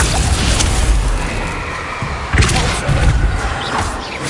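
Bombarda spell impacts in Hogwarts Legacy, dense crashing and thudding blasts over a loud continuous battle din, with a sharp burst near the middle.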